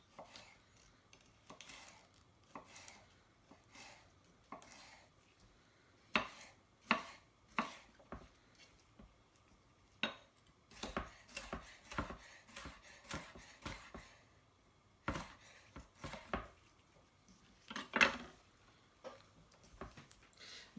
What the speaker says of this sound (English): I'm going to cut it in half and then slice it into sort of pieces